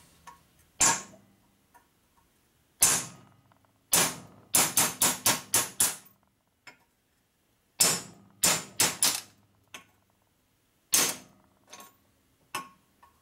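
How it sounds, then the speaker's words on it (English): Steel hammer striking metric sockets to drive out parts during a 1977 Harley-Davidson Sportster Ironhead 1000cc motor rebuild; sharp metallic blows come singly and in quick bursts of several strikes, loud and close, separated by pauses. "I just got my cheap ass metric sockets I beat with my steel hammer to knock these out"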